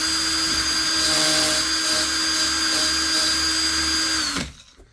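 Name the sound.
trimming 6.5 Creedmoor rifle brass cases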